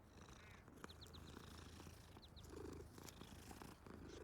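A regular tabby cat in Hogwarts Legacy purrs softly and steadily while being petted, with a few faint high chirps over the low rumble.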